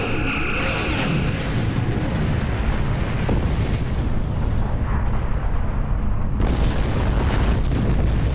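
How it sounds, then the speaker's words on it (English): High yield torpedoes fire and explode in the Star Trek Online space combat game, a continuous loud roar of booming blasts and rumbling explosions layered throughout with no break. "Fire high yield torpedoes."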